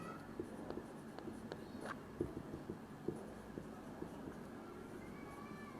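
A pen scratches across paper in short, faint strokes with small taps, a quiet and uneven writing rhythm over a low background.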